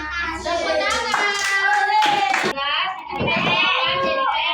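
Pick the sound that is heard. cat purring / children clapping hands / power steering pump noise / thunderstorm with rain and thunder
children clapping hands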